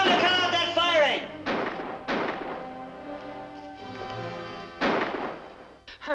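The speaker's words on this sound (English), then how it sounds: "Tell him to cut out that firing!" Gunfire in an old western film: several sharp booming shots at irregular intervals, loud and echoing, mixed with raised voices and a dramatic soundtrack.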